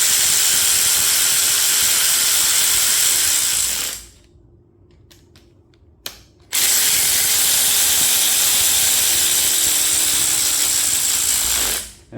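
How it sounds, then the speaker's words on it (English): An electric ratchet tightening ARP hardware on a forged VQ37VHR engine, two long loud whirring bursts with a hiss, each slowing as the throttle eases off, separated by a short quiet pause with a few small metallic clicks. "if you're using an electric ratchet like that, slow down your roll as you're getting to the bottom. So you can hear me coming off the throttle."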